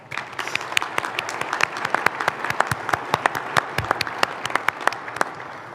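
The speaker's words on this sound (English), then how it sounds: "Let's give them a round of applause." Audience applause at a city State of the City address, a steady patter of many hands clapping with sharp individual claps standing out, fairly close and continuous throughout.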